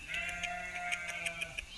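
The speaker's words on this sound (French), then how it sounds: "Elle est belle cette chèvre." A goat bleats in a drawn-out, quavering call lasting over a second, close and clear, alongside a faint ticking or bell-like tapping.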